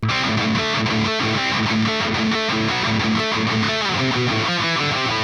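Distorted electric guitar plays the bridge riff of a song, with dense palm-muted chugs and double stops in a steady driving rhythm, loud and saturated throughout, no voices.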